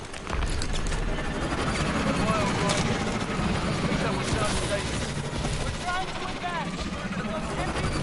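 Aircraft touching down with reverse thrusters roaring in Call of Duty: Advanced Warfare, a loud, dense, continuous engine drone with rattling texture that holds steady for several seconds, with muffled chatter underneath.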